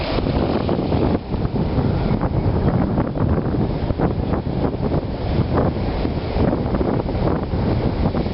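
Strong wind gusts outdoors buffet the microphone in a steady, rumbling roar that swells and eases over several seconds, with no one talking.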